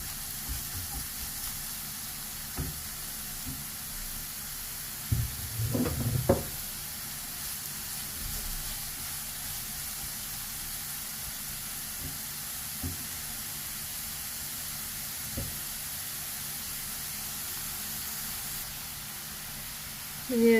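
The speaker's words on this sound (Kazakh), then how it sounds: "Міне жуамыз бен сәбізіміз қуырылды." Chopped onions and carrots fry in a pan, a soft continuous sizzle running throughout, broken by a few louder scraping stirs and clatters near the start and at the end.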